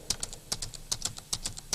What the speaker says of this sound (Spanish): tecleándolas aquí